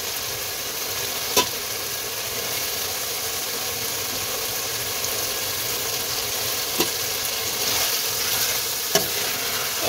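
Fish pieces fry in a cooked spice masala with a continuous, even sizzling hiss, broken now and then by a few sharp clicks.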